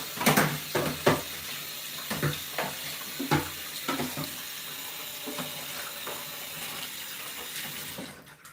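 Tilapia being rinsed under a running kitchen tap, with a steady water flow and irregular splashes and knocks as the fish is handled in the sink.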